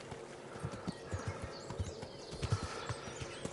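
Horse hooves clip-clop in a steady walking rhythm in the snowy medieval world of Kingdom Come Deliverance, each footfall distinct and moderately close, with a faint whinny-like tone and no talk over it.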